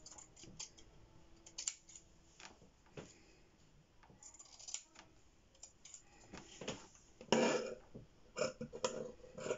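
Scissors snip through squares of fabric in a sewing session, giving a run of short, close, crisp cuts and clicks in irregular rhythm, with no voices.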